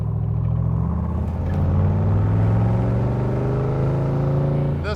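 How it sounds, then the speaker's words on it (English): A 1967 Chevrolet Corvette's engine rumbles and revs through side pipes while driving, a deep, steady burble that swells in the middle and stays close and loud. "Love the side pipes. Sounds so cool."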